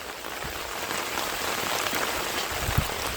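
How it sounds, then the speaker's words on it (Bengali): Steady rain falls and patters on surfaces as a continuous broadband hiss, with an occasional louder drip. "এদা বৃষ্টি শুরু হয়ে গিয়ে"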